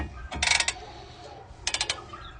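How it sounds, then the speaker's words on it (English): A ratchet clicks in two quick, close bursts of sharp metallic ticks, separated by a short pause, while turning on the tie rod nut of a 2012 Ford Explorer during front outer tie rod work. "we'll use a ratchet to hold that still while we turn it with the wrench"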